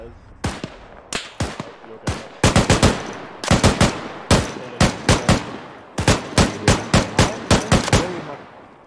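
Machine gun fire in the military shooter Arma 3, loud and close, in rapid bursts of sharp reports separated by brief pauses, with a steady rhythm through most of the stretch.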